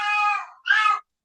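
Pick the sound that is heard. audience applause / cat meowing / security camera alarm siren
cat meowing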